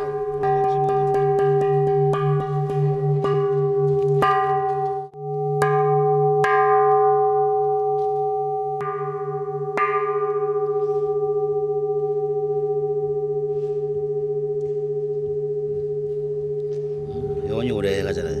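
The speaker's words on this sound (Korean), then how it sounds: "완성된 종은 하나같이 소리를 시험한다." A newly cast Korean bronze Buddhist temple bell is struck repeatedly to test its tone. Each strike sounds a bright metallic clang at an uneven pace, over a deep, long-ringing hum that sustains through the whole span.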